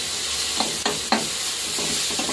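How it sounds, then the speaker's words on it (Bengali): Freshly grated garlic sizzles as it hits a hot pan, with a steady bright frying hiss broken by a few sharp stirring scrapes, close and fairly loud with no talk. "এই যে রসুনটা দিয়ে দিলাম, গ্রেট করে নিয়েছি রসুনটা।"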